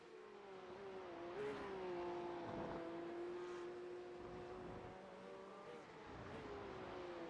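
A race car engine from a racing simulator at Road Atlanta drones steadily and loudly throughout, its pitch shifting slightly as it accelerates and eases off, with no talk over it.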